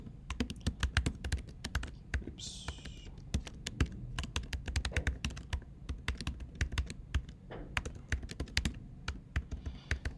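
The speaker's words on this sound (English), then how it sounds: "the reason that I'm typing these in the environment" Fingers type on a computer keyboard in irregular close bursts of sharp key clicks with short pauses between runs, and a voice briefly mutters once partway through.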